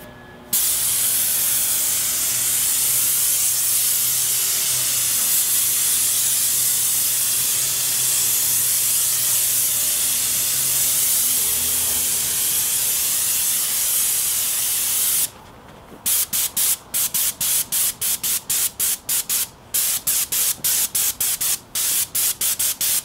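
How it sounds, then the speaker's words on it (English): A spray gun spraying stucco gives a continuous loud hiss for a long stretch, then breaks into short rapid bursts, sputtering on and off. "So there you go, that's a little bit how you spray stucco and hide your spray pattern."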